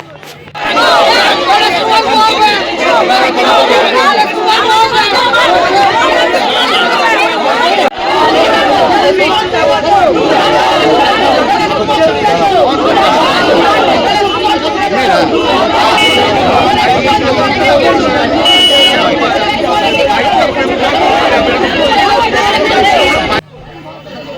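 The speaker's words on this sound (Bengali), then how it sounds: "কালো পতাকা হাতে গো ব্যাক স্লোগান দিতে দেখা যায়" A crowd of protesters carrying black flags raises loud, continuous chanting and shouting of "go back" slogans, a dense babble of many voices that stays near and strong for nearly the whole stretch before cutting off abruptly.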